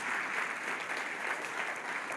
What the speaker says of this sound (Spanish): ¿Le puedes dar un fuerte aplauso al Señor Jesús?